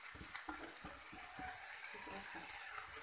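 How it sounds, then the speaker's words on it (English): Grated bottle gourd and carrot cook in a hot frying pan, giving a steady near sizzle and hiss with intermittent scraping and stirring knocks throughout. "Now I am adding grated bottle ground and carrot"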